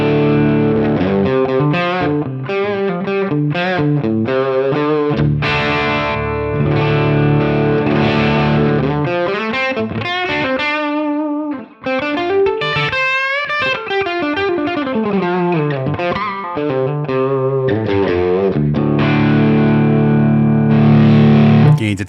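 Guitar run through the Line 6 Helix Pillars overdrive with gain at zero, a mildly driven tone; steady chords and sliding riffs play continuously and loudly with bends and quick runs, no voices over it.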